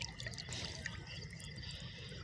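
Cold running water flowing fast at night while a hand is dipped in to check it, a steady soft trickling and splashing, faint and continuous with no talk.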